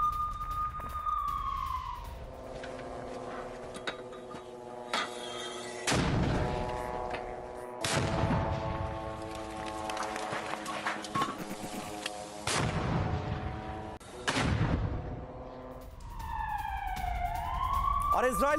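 Mortar strikes on an Israeli military site in news footage, heavy booming blasts recurring every few seconds with a ringing siren-like tone running through, loud and close.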